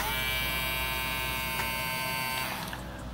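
A small Supreme cordless hair trimmer buzzes steadily at close range with a constant motor whine, then winds down near the end.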